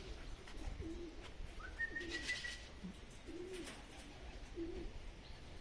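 Racing pigeons arriving at the loft in strong wind after a 342 km race from Gubin, with repeated soft cooing calls and a brief higher call over steady wind noise.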